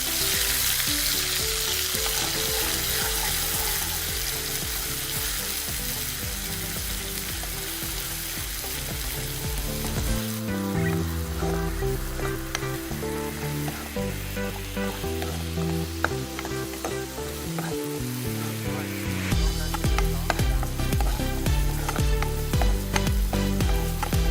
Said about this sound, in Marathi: हे छान परतून घ्यायचं आहे आपल्याला